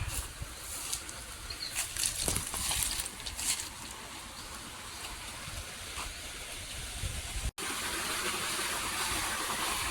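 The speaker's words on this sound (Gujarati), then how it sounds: "ત્યાં અહીંયા પાણી ચાલુ કરી દીધું." Water gushes steadily from a garden tap just turned on, a continuous broadband hiss and splash close by with a few brief knocks, running alone without voices.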